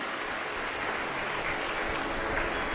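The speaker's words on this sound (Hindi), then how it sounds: "मैं श्री दया सिंह जी को और उनकी पूरी समिति को एक बार जोरदार ताली बजाकर स्वागत वंदन अभिनंदन" A crowd at a Shiv Mahapuran katha gathering in the rainy month of Shravan claps loudly and continuously, a dense steady wash of applause with no voice rising above it.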